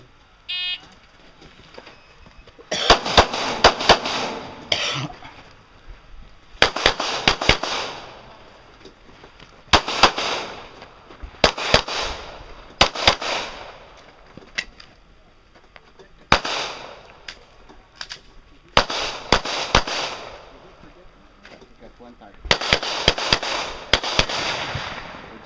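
Repeated gunshots ring out during a practical shooting match stage, fired in quick clustered strings with short pauses between bursts, loud and sharp with echoing tails.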